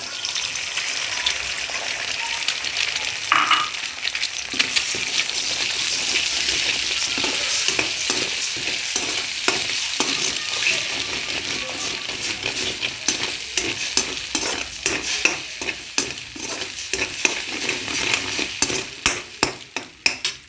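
Two eggs fry in a hot pan for chicken fried rice, a steady close sizzle broken by frequent scraping and stirring strokes that grow sharper and more rhythmic toward the end.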